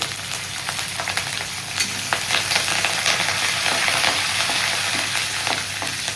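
Curry leaves frying in oil on a cast iron tawa while making masala dosa, a continuous close, crackling sizzle with occasional sharper pops and stirring.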